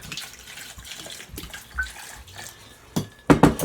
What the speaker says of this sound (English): put the water in there until it just covers the apples